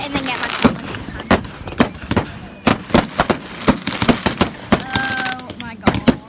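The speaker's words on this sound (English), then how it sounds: "We'll try and vlog all the fireworks." Fireworks bang and crackle at a bonfire night display, with sharp repeated bursts in an uneven rhythm, some close and loud, under excited voices and a few whistling rockets.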